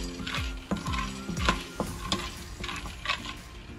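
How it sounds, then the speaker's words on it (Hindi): Peanuts are dry roasted in a hot kadhai without ghee, giving soft scraping stirs and light rattling knocks of nuts against the pan at close range, irregular and fairly quiet, with no talking. "जब हल्की सी कढ़ाई गर्म हो जाए तो हमने इसमें जो मूंगफली है वो डाल के इसको ड्राई रोस्ट कर लेना है, बिना घी के हमने इसको रोस्ट करना है।"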